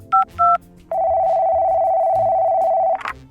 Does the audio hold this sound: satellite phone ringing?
yes